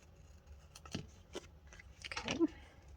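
Scissors snip through washi tape while decorating a Happy Planner page, a few soft, close crisp cuts with light handling noise and faint talk nearby.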